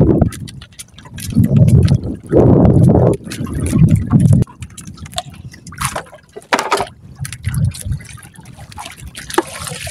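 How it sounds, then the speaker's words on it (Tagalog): Water rushing and splashing against something in a strong current, loud and close in uneven surges, with someone talking at times. "Lakas kasi ng agos."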